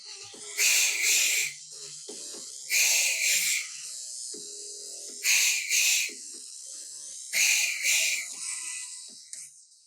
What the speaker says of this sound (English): Now we're going to add the double exhale.